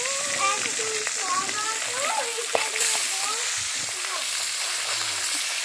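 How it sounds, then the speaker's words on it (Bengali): Oil frying in a pan on a stove gives a steady, close hiss of sizzling throughout, while someone talks over it and occasional small knocks are heard. "আমাদের তেল গরম হয়ে গেছে"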